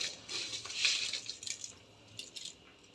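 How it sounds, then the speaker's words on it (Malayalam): Soaked rice tipped into boiling water in a pot for Palakkad dum biryani, a soft close rattling pour and splash, brief and fairly quiet, then settling into a faint bubbling hiss. "ഇനി അരിയെ ഇതിലേക്ക് കൊട്ടിക്കൊടുക്കാം."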